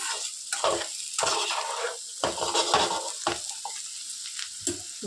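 Bitter gourd slices fry in hot oil until crisp, a steady close sizzle broken by repeated stirring scrapes and clinks of a utensil against the pan, with no talking.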